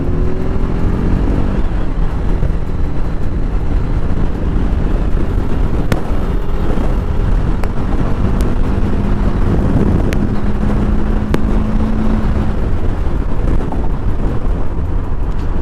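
A TVS Apache RTR 310 motorcycle rides across a flyover, its engine pulling and rising in pitch under heavy, roaring wind buffeting on the microphone, with a few sharp clicks from gear shifts. Loud and continuous, no talking.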